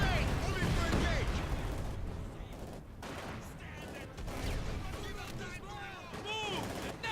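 Dense gunfire and booming artillery fill a Company of Heroes 2 battle without a break. Shots and explosions overlap, and game voices shout between them.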